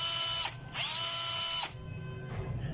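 A Dewalt DCD700 cordless drill driver running in first gear, with a loud, steady high-pitched whine in two bursts separated by a short pause, then a quieter run-down, close up with no voices.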